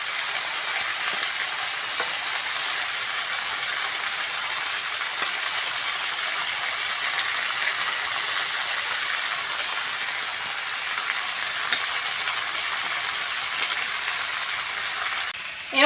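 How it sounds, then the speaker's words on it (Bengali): Cooked rice tipped onto fried vegetables in a pan for prawn fried rice sets off a steady, even sizzle that runs close and unbroken throughout, with an occasional faint clack of a utensil and no talking. "সব সবজিগুলো ভালো করে ভেজে নিয়েছি, এবার ভাতটা দিয়ে দেবো।"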